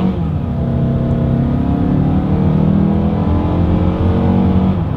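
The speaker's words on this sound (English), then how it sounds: "Let's put the acceleration to the test here, and let's see how quickly that 0 to 60" A 2022 Mazda CX-5 with the non-turbocharged engine accelerating hard from a rolling start, its steady rising engine drone loud and continuous from inside the cabin with no talk.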